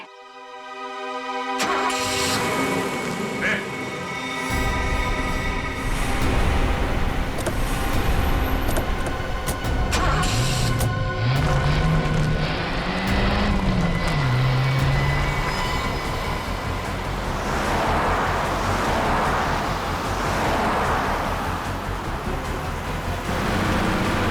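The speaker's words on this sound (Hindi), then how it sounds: "गाड़ी बहुत तेज चला रही है।" A loud, continuous vehicle rumble with rushing road noise and a rising-and-falling engine tone, steady throughout with no voices.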